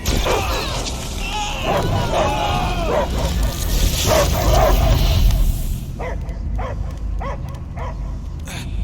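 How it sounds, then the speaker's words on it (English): A dog in the Guardians of the Galaxy video game barks, yips and whimpers in repeated loud bursts amid crashing effects and background noise, and the barks grow sharper and more spaced out near the end. "I hear only barking"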